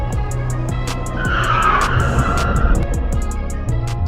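Tires squeal loudly as a car with failing brakes skids, the screech rising and fading over a few seconds amid engine and road noise.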